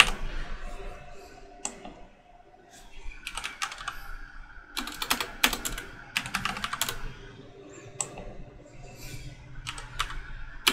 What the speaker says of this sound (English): I got all 24 words typed out